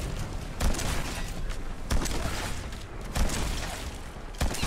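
Rapid bursts of gunfire in the VR naval combat game Battlewake, loud and close, repeating in heavy volleys about every second with booming low thuds, with no talking over them.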